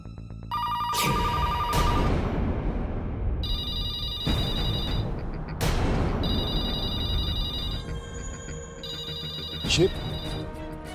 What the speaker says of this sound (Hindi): ये तो उस आत्मा का ही फोन लगता है। फोन मत उठाना